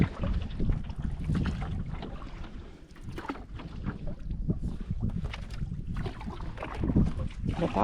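Canoe paddling on Ivanhoe Lake, with steady rhythmic water strokes and splashes close by, mixed with wind buffeting the microphone throughout.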